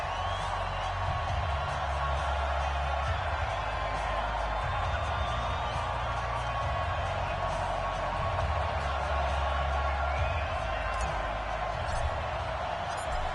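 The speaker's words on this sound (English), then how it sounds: "The enthusiasm of this Cincinnati crowd in full effect a moment ago" Sold-out stadium crowd in Cincinnati cheering in the Madden NFL football game before facing the New England Patriots, a steady, dense roar that stays even throughout over a low rumble.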